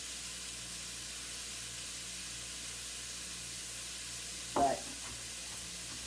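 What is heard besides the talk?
garlic and onions frying in a pan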